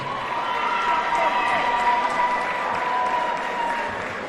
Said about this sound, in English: let's please show a round of applause for both boxers